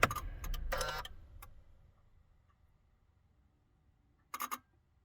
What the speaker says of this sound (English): there's a clicking sound coming from underneath the dash.